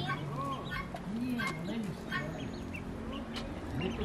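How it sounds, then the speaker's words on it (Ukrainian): Several farmyard chickens cluck and squawk in short bursts at close to moderate range during an outing in Roztocze, with people talking and rustling noise in the background. "Бачиш ці кури?"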